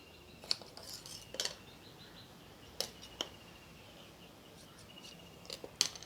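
Tailoring scissors cutting blouse fabric, a few quiet, crisp snips spaced irregularly over a faint, hushed background, with no voices.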